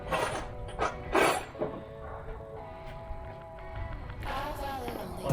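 A ratchet with a 32mm socket clicks in short bursts on a Honda rear wheel hub, with close metallic ratcheting and clanks followed by quieter handling noises.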